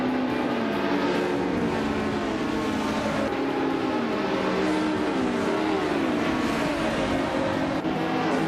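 A classic 1996 Lamborghini Diablo races in a video game, its engine a steady, loud drone whose pitch rises and dips with gear changes throughout, with no talking.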